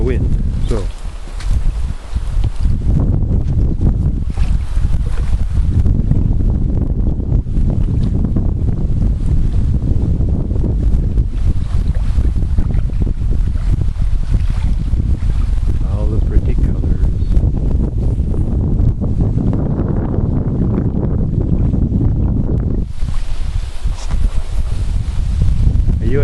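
Strong wind buffets the microphone at a lakeside campsite, a constant loud roaring rush with gusty swells throughout.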